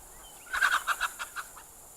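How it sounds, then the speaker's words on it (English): A turkey gobbles once in a rapid rattling burst of about eight pulses, faint and somewhat distant outdoors against quiet background noise. "I guess it is that turkey making that noise."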